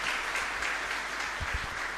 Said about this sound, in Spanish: Un fuerte aplauso para el Señor entonces.